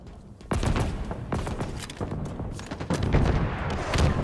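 Bursts of gunfire crack and pop in a dense, busy stretch, shots overlapping with booms and rattles like a firefight close by.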